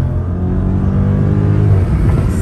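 Dodge Scat Pack car in city traffic, a loud low engine rumble with a brief rise in revs near the end, close to the listener, with no talk.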